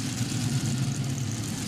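A pulling tractor's engine runs steadily at a low, heavy rumble, close and continuous with no talk over it.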